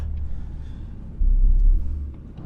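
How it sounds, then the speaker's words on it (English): A Dodge 6.7 Cummins diesel truck engine running at high idle, a steady low rumble close by that swells louder for a moment before settling back, with no talking. "I really like that high idle feature on the Dodge."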